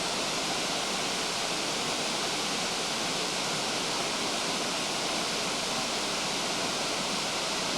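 A waterfall cascading down a sheer rock face in Costa Rica pours out a dense, unbroken hiss and roar, steady and loud throughout with no other sounds.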